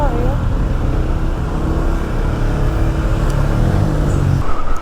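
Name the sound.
road traffic, cars in a traffic jam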